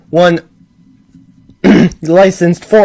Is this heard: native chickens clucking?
no